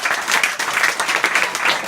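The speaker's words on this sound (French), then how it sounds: "On peut les applaudir à nous" A small audience at a campsite hypnosis show claps briefly, a close, lively patter of many hands with uneven bursts throughout the short stretch.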